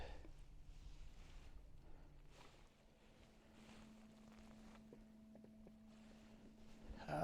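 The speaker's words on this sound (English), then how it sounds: "And start up the motor." A small outboard boat motor runs at a steady low hum with a constant pitched drone on Lake Kipawa, Quebec, accompanied by wind and water noise.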